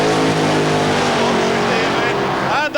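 A Budweiser drag racing car at Santa Pod in 1992 roars loudly and steadily, its dense engine noise filling every moment and shifting slightly at the very end.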